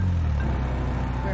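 A car engine rumbles steadily as the vehicle pulls away, a continuous low drone at moderate distance with a voice briefly present.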